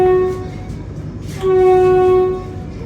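Two long steady horn blasts from a Vande Bharat Express train on the Guwahati to New Jalpaiguri route, close and loud, with the second sounding after a short pause.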